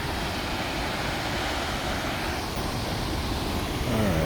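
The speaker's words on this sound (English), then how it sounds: "That's a gorgeous waterfall." Waterfall on the McKenzie River in Oregon, a broad steady roar of rushing water filling the scene, constant and fairly close with no voices over it.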